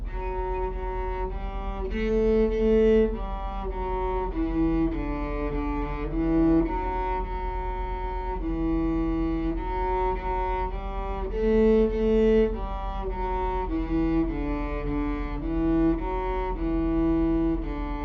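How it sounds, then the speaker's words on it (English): A cello bows a slow, sustained melody with a constant low drone beneath, the notes changing every second or so, full and close with no talking. "This next instrument is the cello."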